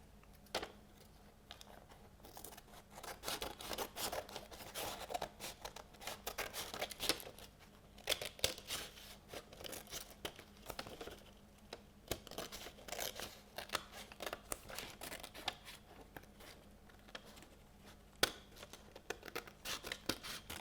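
Scissors cut through a sheet of paper for a handmade scrap journal, giving a steady run of close, crisp snips and rustles at a quiet level.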